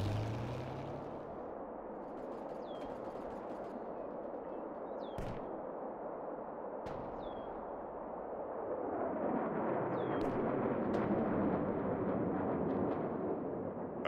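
Soviet artillery guns fire in the World War Armies video game: several sharp, distant cracks spaced a few seconds apart over a rumbling battlefield bed, with a few faint higher pings and no talk.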